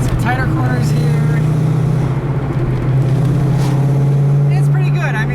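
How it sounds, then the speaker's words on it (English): A 1992 Ford Mustang GT V8 accelerates hard with a loud, steady low engine drone and rising tone throughout, heard from close by with a voice speaking over it. "Nice little acceleration blast."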